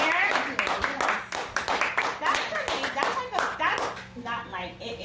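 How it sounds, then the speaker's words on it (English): A small group clapping during a podcast interview with juice bar owners, quick close hand claps overlapping with people talking and laughing over them before tapering off. "we need to give you a round of applause"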